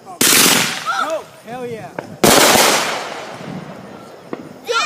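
A fireworks finale fires off two big booming bursts, each followed by a long crackling, hissing tail, close and loud, with people cheering and shouting between the blasts.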